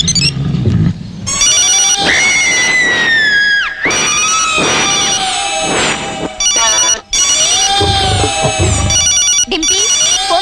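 A telephone rings loudly in a bedroom with a warbling electronic tone, repeating in long bursts with brief gaps between them across the whole stretch.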